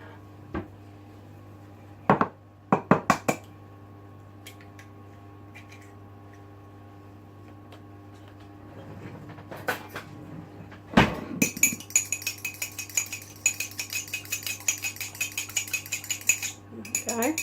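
An egg lightly beaten in a bowl for parkin, a quick run of fork or whisk clicks against the bowl following a few scattered knocks and clinks.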